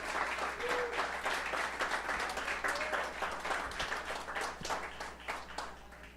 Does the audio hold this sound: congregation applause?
yes